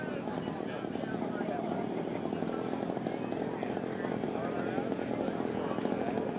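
A scale model aircraft taxiing into position at a scale aircraft show, its small engine droning steadily and loudly throughout, with a voice talking over it.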